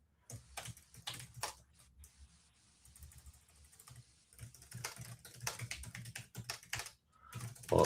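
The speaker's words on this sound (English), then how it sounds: "Playback will be triggered by a keyboard, by a computer keyboard." Quiet, close clacking of keys on a computer keyboard, sparse at first and then a faster irregular burst of presses, alone with a faint low hum behind it.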